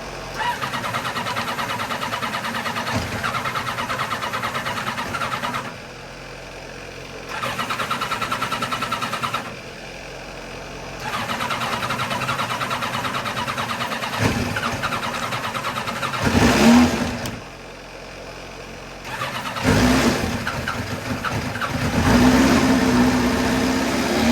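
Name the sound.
Ducati motorcycle engine starting and running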